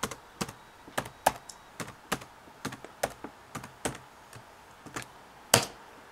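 Keys on a Compaq Presario laptop keyboard are tapped at an uneven pace, close and quiet, ending with a firmer press, with no talking.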